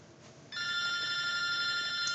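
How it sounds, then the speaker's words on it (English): Mobile phone ringing indoors during dressmaking work, a bright electronic ringtone that starts abruptly and holds a steady sustained tone, fairly loud and close, with no voices over it. "Oops, that's my phone."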